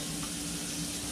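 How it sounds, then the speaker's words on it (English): Tap water runs steadily into a kitchen sink during handwashing, a close, constant splashing stream with no voices. "before we do anything in this Budget Buddy kitchen, we wash our hands"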